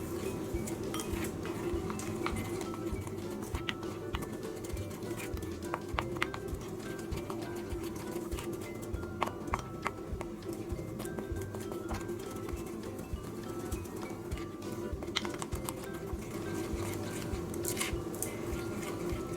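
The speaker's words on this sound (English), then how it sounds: "Now we'll just mix it like this." Cocoa powder and milk stirred into a thick paste in a bowl, soft repeated squishing and light spoon clinks against the dish at close range, with faint birdsong in the background.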